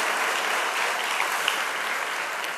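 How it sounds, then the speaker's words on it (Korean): Church congregation gives a round of applause of thanks during a worship service, a dense steady clapping that holds evenly throughout without a break. "감사의 박수를 드립니다"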